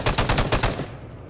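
Automatic weapon fire in the video game Arma 3, a rapid loud burst of about seven evenly spaced shots followed by a short fading tail, with no talking.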